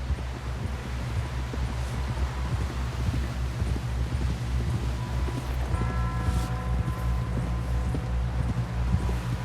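Horse hooves clopping at a riding pace in Red Dead Redemption 2, a steady busy rhythm mixed with wind and rustling across the whole stretch, with no talk over it.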